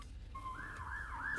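A single siren wails, rising and falling in a wavering sweep, faint and distant over a low background rumble.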